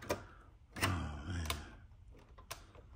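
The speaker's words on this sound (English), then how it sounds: "You see how that thing is clicking?" An Arrma Limitless V2 RC drag car makes sharp mechanical clicks, four distinct ticks spaced irregularly against a quiet background with a low rumble between them.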